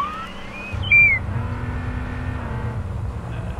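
A vehicle drives in H1Z1 King of the Kill with a steady low engine rumble, joined briefly by a high whistling tone near the start, loud and close throughout.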